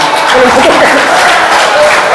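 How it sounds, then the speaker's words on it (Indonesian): A short burst of clapping from a small group at a car rental association inauguration, brief and close, with some voices mixed in. "Tepuk tangan dulu."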